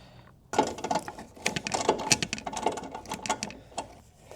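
A socket wrench tightens a bolt on a 1972 Opel GT, giving a close, irregular run of ratcheting clicks and metallic rattles after a short quiet start.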